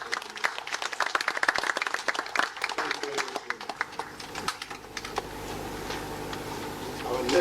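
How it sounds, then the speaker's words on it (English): An audience at a West African central bank governors' conference in Freetown, Sierra Leone, claps in a dense, moderately close round of applause that thins out and fades into room noise toward the end. "I want us to give another round of applause"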